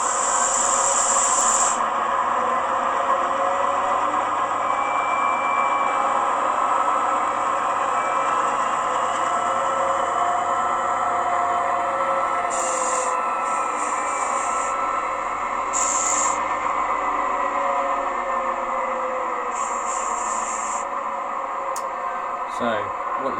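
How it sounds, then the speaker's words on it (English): Class 68 diesel locomotive DCC sound file: a steady engine drone with a hissing brake release and rising tones as the loco starts moving, plus intermittent high beeps. "you get the brake release just before the loco moves."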